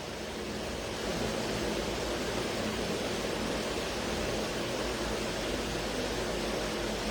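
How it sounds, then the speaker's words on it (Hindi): An electric fan runs with a steady, broadband whooshing hiss that fills the whole stretch evenly, loud and close, with no voices heard. "पंखे की आवाज सुनाई दे रही है, मतलब पंखा ज्यादा सुनाई दे रहा है साथियों।"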